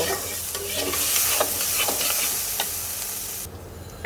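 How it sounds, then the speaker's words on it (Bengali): Spice paste with ground coriander frying in a little oil for a pabda fish curry, a steady close sizzle with scraping stirring strokes, no talking. "এইবার সব কিছু মিক্স করে দেব আর এক দুই মিনিট এটাকে একটু হালকা তেলের মধ্যে ভাজা ভাজা করব"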